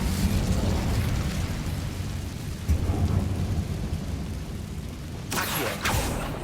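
A fire spell cast in the Hogwarts Legacy video game, a loud sustained roaring burst with rumbling low body, flaring again sharply near the end.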